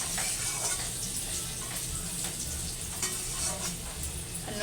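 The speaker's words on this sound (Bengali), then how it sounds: "এবার আলুটাকে লাল লাল করে ভেজে নেব" Potato pieces fry in a pan with salt and turmeric, giving a steady, close sizzle with occasional stirring scrapes and no voices.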